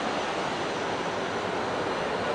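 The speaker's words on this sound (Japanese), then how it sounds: "ここがエアバス380ですね" Steady broadband roar of a Singapore Airlines Airbus A380, the double-decker airliner, heard near at a boarding area, constant and loud with no talk.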